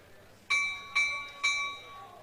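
A bell rings three clear, evenly spaced strikes with ringing tones that hang and decay, opening the ceremony at a curling bonspiel before players are piped out onto the ice.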